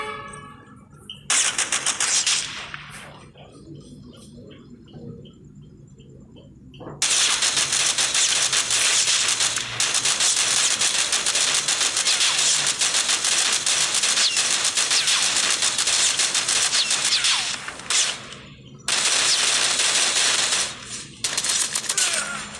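Shield turret firing in the Call of Duty Mobile video game, a loud sustained rapid-fire gun burst running for most of the stretch with brief pauses, set after quieter game sounds with a voice cue.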